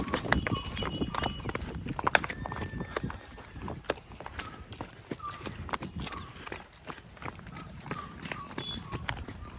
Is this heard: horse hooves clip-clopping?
yes